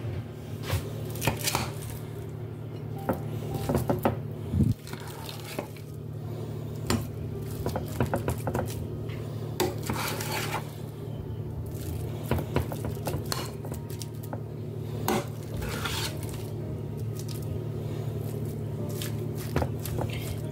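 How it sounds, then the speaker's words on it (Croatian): Mashed beans are scraped and spooned into a serving bowl, giving repeated soft knocks, clinks and scrapes of a utensil against dishes at an irregular pace, fairly quiet and close, with no talking. "sada ću da ga prespim u ovu zdjelu za posluživanje"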